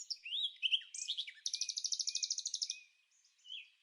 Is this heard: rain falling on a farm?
no